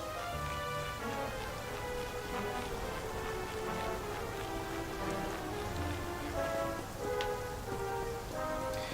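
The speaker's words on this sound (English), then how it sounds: "And it started raining" Rain falling in the video game Dragon Quest XI, a continuous patter over layered game music, steady and moderately loud with no talk.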